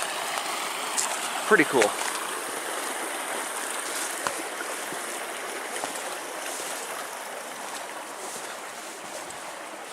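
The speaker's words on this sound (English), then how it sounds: "There's the creek that comes out from underneath the rocks." A creek flows out from underneath rocks on a winter hike, giving a steady broadband rushing wash throughout, with a brief voice and a few soft knocks near the start.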